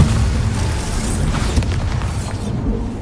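A deep, booming Bombarda spell explosion in Hogwarts Legacy, loud and rumbling at the start and tailing off into a dense roar across the whole stretch.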